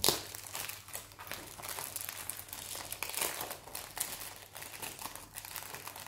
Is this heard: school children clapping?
no